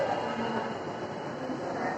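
A steady low rumble and hum of a metro train in motion, heard from inside the car, with a faint high whine and no clear speech.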